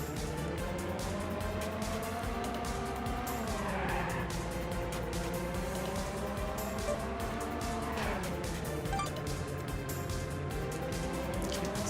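A racing car in the NeoSprint video game drives continuously with a loud, steady engine whine that sweeps up and down through gear changes and turns, tires hissing along, without any voices.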